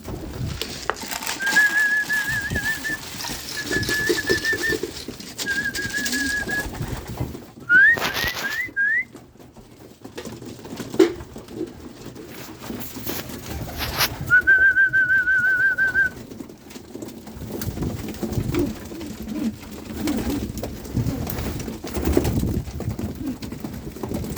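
Repeated soft pigeon coos recur in short bursts, with several higher whistled notes mixed in over a steady background rumble.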